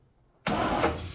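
A long-abandoned 1968 International 1200 pickup engine, parked over fifteen years, suddenly cranks over after a quiet moment, a loud, dense mechanical churn that continues steadily to the end.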